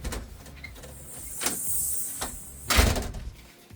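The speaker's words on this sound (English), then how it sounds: "In order to open this door up all the way with no restrictions, you're gonna have to close the door first." Storm door being closed, a closer hiss as it swings shut, a few clicks and rattles, then a solid thud of the latch near the end, with no talking.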